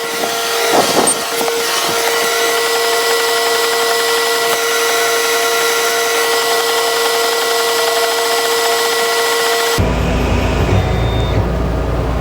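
An Ortur Laser Master V2 laser engraver works through a dithered picture on a wobbly folding table, giving off a steady whirring machine hum with faint stepper tones throughout, loud and close, changing character near the end.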